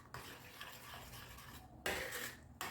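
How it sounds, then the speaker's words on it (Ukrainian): A spoon stirs thick pumpkin cream soup in a pot, giving soft continuous scraping and swishing with a couple of brief louder clinks against the pot, quiet and close. "Так, перемішуємо."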